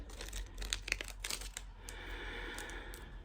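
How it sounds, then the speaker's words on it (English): Scissors cutting a number off a paper seed packet: close, quiet crinkling and snipping with a few crisp cuts, then a softer rustling of paper. "So what I do then is I cut the little number off so I know what this is for."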